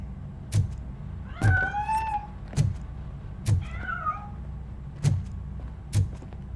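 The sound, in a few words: cat meowing as it escapes, from video game Robocop Rogue City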